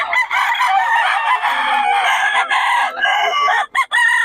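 A White Hatch gamefowl rooster, a banded bird, crows loudly and close up in one long, strained call that breaks off near the end, with no talk over it.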